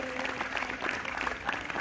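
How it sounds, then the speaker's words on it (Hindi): Audience at a live yoga session claps steadily in a dense, continuous patter, moderately loud throughout the short stretch, with voices mixed into the crowd noise. "जोरदार तालियां बजती रहनी चाहिए"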